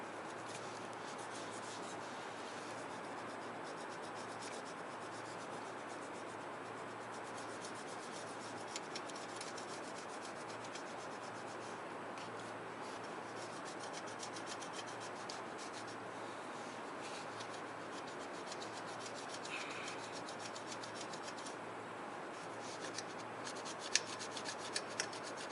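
Cloth rubs rust off a chrome MagnaFlow exhaust with a faint, steady scrubbing rasp that runs on without pause.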